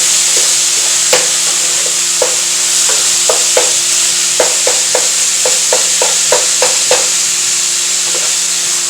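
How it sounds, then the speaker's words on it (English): Shepherd's pie filling fries in a very hot skillet, a loud steady sizzle with repeated sharp clicks and scrapes of stirring spread throughout, no voices. "I hope you can hear me over the sound of this very hot skillet."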